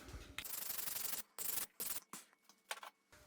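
On the ball joint of a Dana 44 axle, short bursts of harsh scraping and brushing come close to the mic. The strokes are separated by brief pauses.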